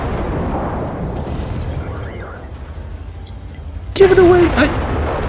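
Tank cannon fire in World of Tanks, with a sharp booming shot near the end that follows a stretch of engine rumble and battle noise. A player talks excitedly over it.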